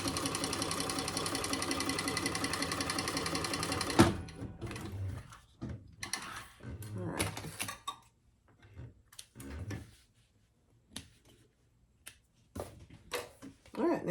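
A sewing machine runs steadily for about four seconds while stitching a fabric bag, then stops, followed by scattered short bursts of stitching mixed with handling noises.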